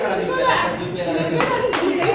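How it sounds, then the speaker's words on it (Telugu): In a classroom during a picture and letter activity, a group of children claps for their teacher in a short burst of mixed, uneven claps with voices chattering over it. "అనురాధ మేడంకి చప్పట్లు కొట్టండి"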